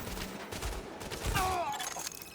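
Rapid bursts of video game gunfire crackle across a noisy mix, with steady shots throughout and a swelling volley near the middle, mixed with other game sounds.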